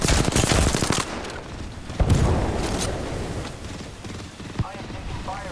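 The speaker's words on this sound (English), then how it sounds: "The enemies are shooting at me." Rapid automatic gunfire in the shooter game Apex Legends, a dense burst of shots up front followed by a sharp crack and more scattered fire, with rumbling noise and a brief voice underneath.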